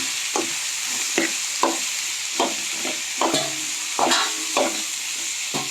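Capsicum and carrot curry sizzles steadily in a pan while a spoon stirs it in regular scraping strokes about every half second, close up over an even frying hiss, no talking.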